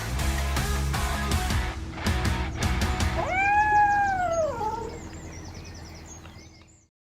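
A cat gives one drawn-out, wavering meow up close, following a stretch of clattering, knocking sounds and ending in quiet.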